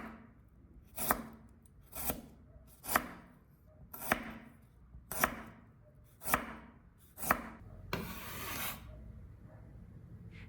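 A knife chops fresh ginger into fairly thick slices on a cutting board, with about eight sharp, evenly spaced strikes close up, followed by a softer scraping sweep.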